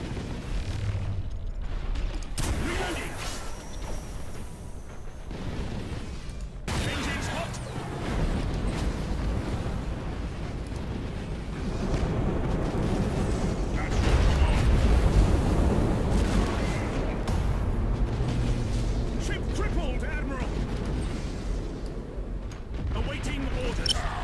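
Warships blow apart in the Battlefleet Gothic video game, heavy booms and rumbling blasts rolling over one another beneath game voices and background score, loud and continuous.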